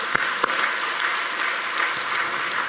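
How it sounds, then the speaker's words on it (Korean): A church congregation at a Sunday worship service breaks into applause, a steady, fairly close wash of many hands clapping with a couple of sharp individual claps standing out early on. "우리 하나님께 영광의 박수"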